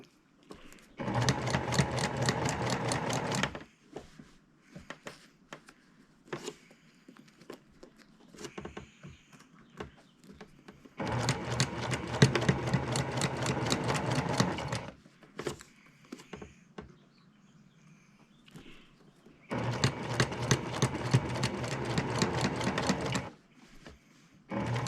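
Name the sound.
sewing machine stitching a quilt, pedal-driven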